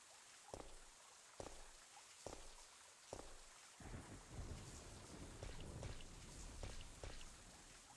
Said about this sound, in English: Love the rain.